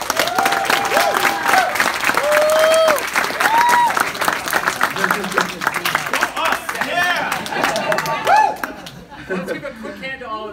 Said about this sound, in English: please, let's give another round of applause for our panelists